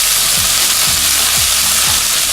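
Ground beef and green beans stir-frying in a hot pan, a loud constant sizzle with a few rhythmic scraping strokes of the stirring utensil at roughly half-second intervals.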